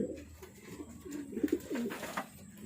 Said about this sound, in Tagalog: Update, update ko kayo sa mga ibon ko.